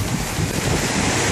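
Wind and surf at a beach in Veracruz, Mexico, a steady, loud, broadband roar of waves and gusting wind buffeting the microphone throughout, with no voices.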